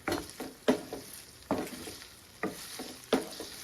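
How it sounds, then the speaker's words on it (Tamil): Chicken pieces fry in plenty of hot oil for a Tamil-style chicken pickle, a close sizzle broken by about six sharp bursts as the pieces are stirred and turned, with no talk. "இந்த சிக்கன் வந்து இந்த எண்ணெயிலே வந்து ஃப்ரை ஆகணும்"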